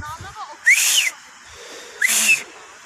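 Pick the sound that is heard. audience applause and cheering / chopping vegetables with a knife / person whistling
person whistling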